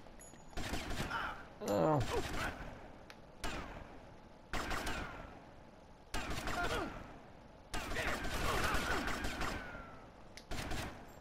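Gunfire in GTA Vice City comes as several loud bursts of shots separated by short pauses, mixed with game sounds, while someone speaks briefly.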